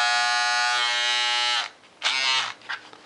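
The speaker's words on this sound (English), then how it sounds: "this is the Wall bump free shaver, the 4000, but also this one has a trimmer on the back" A Wahl Bump Free Shaver 4000 with a back trimmer buzzes steadily and close for about a second and a half, then cuts off, followed by a few brief buzzing bursts.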